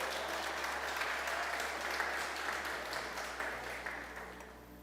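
A church congregation applauds, a dense, steady wash of many hands clapping that carries on evenly and tapers slightly at the end, with a low hum underneath.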